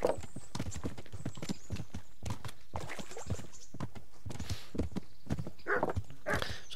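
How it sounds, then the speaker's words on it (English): Rapid horse hoofbeats in the video game Kingdom Come: Deliverance clip-clop steadily and close up, with a few sharper thuds mixed into the rhythm. "You tell me I can't ride a horse."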